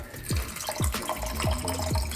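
Tequila and blue lemonade cocktail being poured into a glass, a steady liquid stream with repeated drip-like plops and gurgles across the two seconds, close and clear with no talking.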